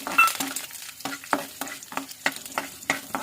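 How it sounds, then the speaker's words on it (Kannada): Dried red chillies and curry leaves fry in oil over a low flame, a soft steady sizzle broken by the quick scraping strokes of stirring. "9ರಿಂದ 10 ಒಣಗಿದ ಮೆಣಸಿನಕಾಯಿ ಮತ್ತು ಕರಿಬೇವನ್ನ ಹಾಕಿ ನೀಟಾಗಿ 1 ನಿಮಿಷ ಆಗೋಷ್ಟು ಫ್ರೈ ಮಾಡ್ಕೊಳ್ಳೋಣ"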